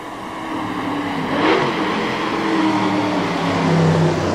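An AC Cobra sports car drives hard on an event run, its engine roaring loudly and steadily with a rising surge of revs partway through, close and unbroken by talk.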